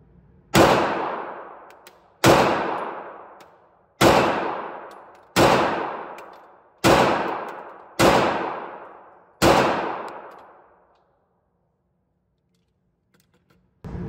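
Seven sharp, loud shots from a subcompact pistol fired one at a time at irregular intervals of about one to two seconds, each with a ringing decay, followed by a short quiet stretch.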